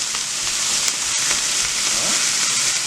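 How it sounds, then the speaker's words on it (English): A pork chop sears in a pan with a splash of white wine, giving a loud, dense, continuous sizzle close by with no break. "while that's searing, I'm gonna put just a little bit of white wine in there with it"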